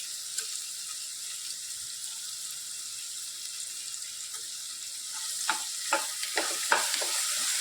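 Onion and dried red chilies being stirred as they fry in a pan: a soft, even sizzle under spoon scrapes and clinks that grow busier near the end, with no talking.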